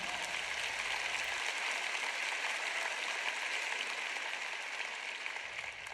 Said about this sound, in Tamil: ஒரு கைத்தட்டல் தான் நீங்களாம் உற்சாகமாக இல்லையா